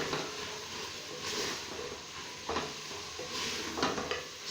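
Capsicum is stirred into a frying pan of chicken macaroni, giving a soft, steady sizzle. Several scraping strokes of a spoon against the pan come at close range, with no talk.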